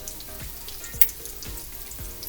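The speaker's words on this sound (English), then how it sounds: "you can really hear the sizzle and smell it." Italian chicken cutlets sizzling in a frying pan, a steady crackling fry with small regular pops and one sharp spike partway through, heard alone without voices.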